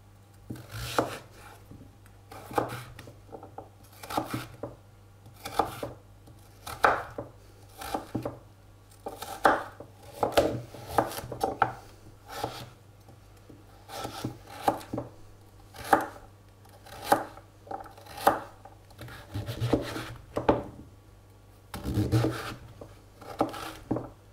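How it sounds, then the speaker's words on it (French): Knife chopping peeled vegetables into cubes for a Norwegian pea soup, a steady run of sharp, close taps on a cutting board with short pauses, fairly loud against a low steady hum, no talking. "on va les couper en cubes"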